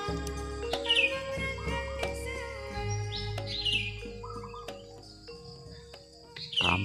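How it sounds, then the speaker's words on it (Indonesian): Birds sing near a clear, calm river in a village setting, with repeated bright chirps and trills over a steady insect-like hum and layered background tones, fairly close and continuous. "Burung-burung pada menyanyi."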